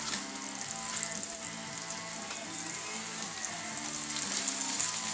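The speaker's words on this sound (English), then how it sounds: "There we go. Hear it sizzle?" Chicken strips, dusted and laid in hot lard in a pan, sizzle steadily with a soft, even hiss and faint crackle, close up and without talk, while a low hum sits underneath.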